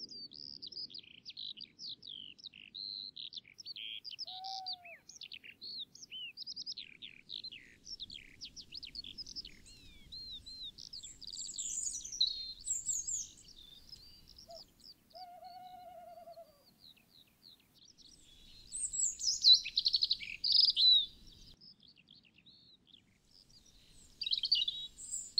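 Busy dawn chorus of high chirps and twittering birdsong, several birds calling over one another at a distance, with a few louder bursts of song.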